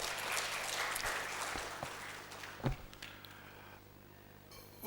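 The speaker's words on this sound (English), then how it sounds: "give a round of applause to the team that has made this possible" Audience applause at a corporate business event fills the room with steady, dense clapping that tapers slightly toward the end, with a brief louder burst midway.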